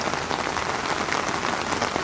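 Heavy rain pours steadily near a canal floodgate, a dense, even hiss of drops striking surfaces with no pauses and no voices.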